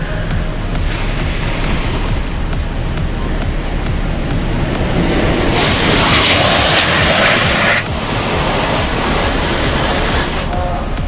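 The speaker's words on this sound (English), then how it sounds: "And here comes the high impact water jets." High-impact water jets blasting a vehicle with a Bestop Sunrider soft top inside an automatic car wash: a loud, continuous roaring hiss from inside the car that swells sharply partway through, then eases back.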